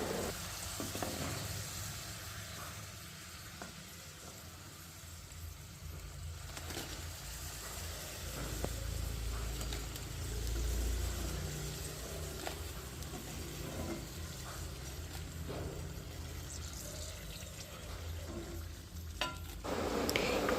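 Jackfruit chips deep frying in hot oil give a steady, moderately loud sizzle and bubbling that runs unbroken for the whole stretch, with no voices over it.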